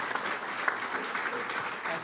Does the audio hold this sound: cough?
no